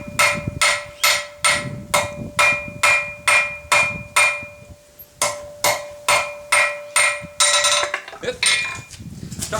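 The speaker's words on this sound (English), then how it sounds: "making it into a taper, so I can bend it round into a bit of into a horn" Hot steel is hammered into a taper on an anvil for a barbarian-style belt buckle: a steady run of sharp, ringing blows about twice a second, loud and close, with the rhythm breaking into quicker strikes near the end.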